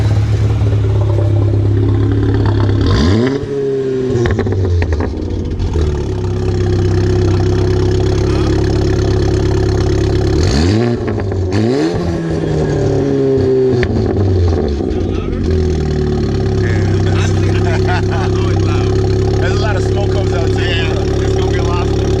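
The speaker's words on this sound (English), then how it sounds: "now let's hear some exhaust sound clips of what this sounds like." A VW MK7 GTI with a catless downpipe idles with a deep, steady exhaust drone, broken by two sharp revs that rise and fall, and then settles back to idle.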